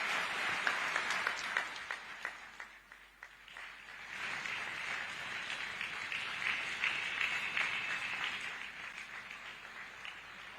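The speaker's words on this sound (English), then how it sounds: "Let's give another round of applause to the President of the Republic of Zambia, Mr. Hakainde Hichilema, for those remarks" Sustained applause from the audience at the EU-Zambia Business Forum for Zambian President Hakainde Hichilema after his opening remarks, a dense roomful of clapping that dips briefly then swells and holds steady, with no talk over it.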